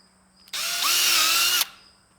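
A power drill drives screws into a wooden walk-in chicken coop door, one loud continuous whir of about a second that rises slightly in pitch before stopping abruptly, close by.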